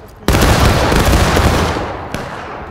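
A massed musket volley in the Civil War shooter War of Rights erupts as one loud, sudden crackling roar that rolls on for about two seconds, then a second sharp shot cracks out near the end.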